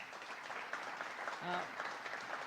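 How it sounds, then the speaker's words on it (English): Faint, steady applause from an audience welcoming commissioners at a ribbon cutting for a new Niagara Falls welcome center, with a brief murmur of voices partway through. "Let's give them a round of applause and welcome them."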